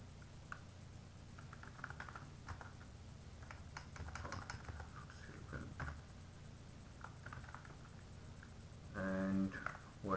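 Computer keyboard being typed on while entering Arduino code, scattered soft key clicks in short bursts with pauses, faint and close, a louder clatter near the end.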